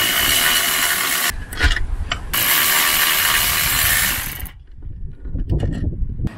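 A socket ratchet on a long extension loosens 10mm bolts on a Mazda RX-8, giving close, loud stretches of rapid clicking broken by short pauses.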